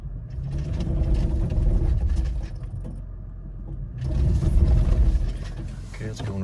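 Vehicle engine given a little gas in crawl control mode while stuck, a low steady rumble rising and falling in two surges, with people talking over it.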